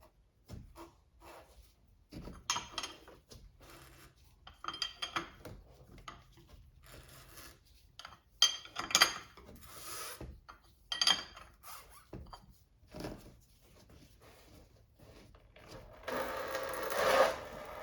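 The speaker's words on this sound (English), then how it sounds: "Now remove the oil filter using a special tool." Oil filter being worked off a 2023-2025 Toyota Prius hybrid engine with a special filter tool, faint intermittent clicks, scrapes and metallic rubbing in uneven bursts, growing louder toward the end.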